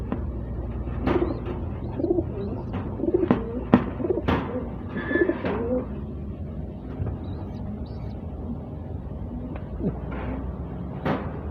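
Young pigeons from a late breeding coo in a loft, soft repeated coos and a few sharper calls near the mic, with faint speech and occasional knocks in the background.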